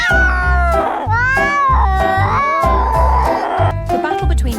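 Black cat and white cat fighting, with a run of loud, strained yowls and caterwauling cries rising and falling close by, broken by short pauses.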